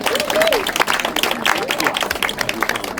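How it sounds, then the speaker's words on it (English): A crowd applauds at a small business reception honoring Small Business Persons of the Year, with clapping mixed into lively chatter and voices over the top. "Another round of applause, please."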